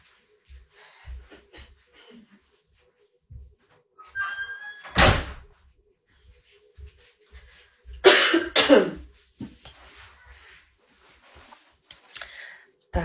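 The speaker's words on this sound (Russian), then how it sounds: "пойду я дверь закрою сюда," A door is pushed shut indoors with a solid thud, followed later by another heavy bang, amid scattered coughs, faint talk and room noise.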